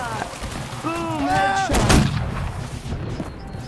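A musket shot fires in the Holdfast: Nations at War video game, a single loud boom with a sharp crack that decays quickly, preceded by a short voiced sound.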